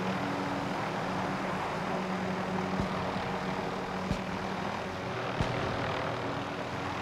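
A steady, droning engine rumble from a helicopter in the video game Call of Duty: Modern Warfare holds constant throughout, with a few faint clicks and thumps breaking through the continuous roar.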